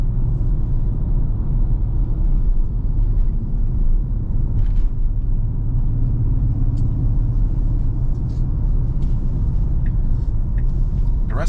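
Steady low road rumble and tyre noise from inside a moving Tesla, a constant near drone with faint ticks and rattles and no speech.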